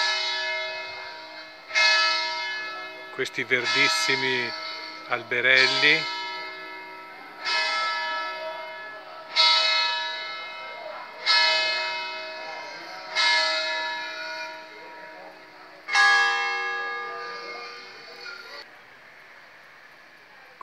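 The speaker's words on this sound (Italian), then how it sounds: "il suono delle campane" Church bells ringing in Giazza, a mountain village in Lessinia, Italy: a series of loud, resonant strokes about every two seconds with long ringing decays, close by, with brief talking early on.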